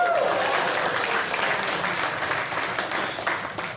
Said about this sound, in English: Now you have to clap.